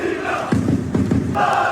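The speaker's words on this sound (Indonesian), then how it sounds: "Sorak-sorak Palestina menggema dinyanyikan oleh supporter Bosnia dan Herzegovina" Bosnia and Herzegovina football supporters chant together in support of Palestine, a loud massed crowd of voices rising in rhythmic bursts.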